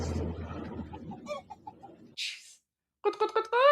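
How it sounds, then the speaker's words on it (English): Chickens cluck in short, repeated bursts over a low background, then a louder cluster of squawks near the end, with a brief noisy blip and a pause between. "My gosh, the chickens."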